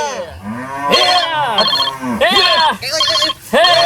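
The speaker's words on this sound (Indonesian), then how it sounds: "telepon euy" A phone rings in a bright, repeating electronic tone alongside loud lowing cattle calls, with people talking over both.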